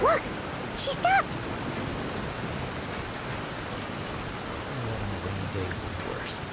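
Rain falls in the video game Genshin Impact as a soft, continuous hiss. A few brief chirpy tones sound at the start before the steady patter carries on alone at low level.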